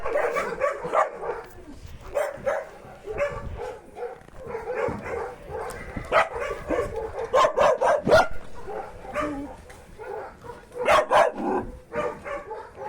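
A small dog barks repeatedly in quick yaps and yips inside a cage area at an animal facility, fairly close and loud, with brief whimpers between bursts.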